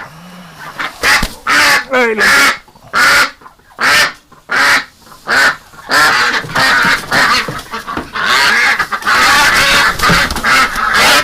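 Ducks in winter quack loudly and harshly up close in a rapid series of bursts, then keep up a dense, continuous clamor of overlapping calls.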